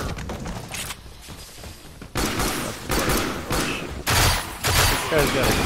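Pistol gunfire from the video game Warframe, rapid bursts of shots in clustered volleys separated by brief lulls, loud and close with dense crackling impacts.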